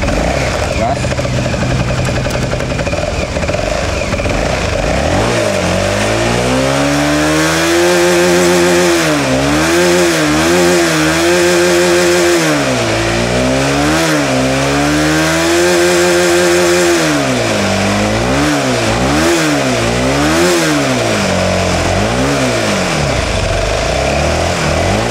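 Kawasaki Ninja 250 mono single-cylinder motorcycle engine idling close by, then revved repeatedly in rising and falling bursts, loud and steady throughout the clip.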